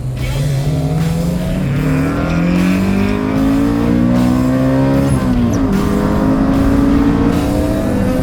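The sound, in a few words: K24-swapped sports car accelerating in drag race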